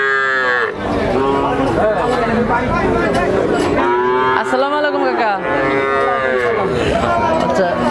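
Heifer calves, Australian cross with local breed, mooing loudly and repeatedly at a cattle seller's farm in Tangail, with overlapping calls from several animals close by and a brief spoken greeting.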